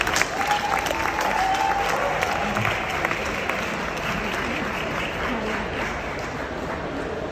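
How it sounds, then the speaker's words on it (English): Conference audience at a COP27 climate session gives a sustained round of applause, dense and loud at first, then gradually thinning and softening toward the end. "I think that deserves a round of applause"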